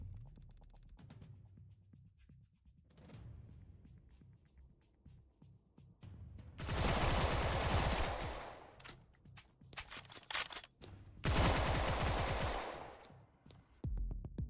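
A gun in a video game empties a whole magazine in two long, loud bursts of rapid automatic fire, separated by a few seconds of quieter game sound.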